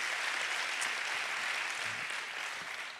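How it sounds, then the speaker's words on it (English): A church congregation applauding during a revival service: dense, steady crowd clapping fills the room from start to finish, with no voices rising above it. "can we give a hand clap for Jesus?"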